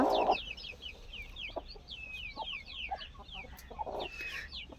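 Backyard hens clucking with short, repeated calls at close range, mixed with scattered bird chirps over a steady outdoor hum; no one speaks.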